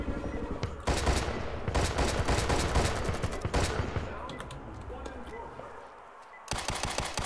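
Automatic gunfire in the shooter game Due Process comes in rapid, loud bursts. A heavy volley runs for several seconds, eases into a quieter stretch, then a fresh burst hits near the end.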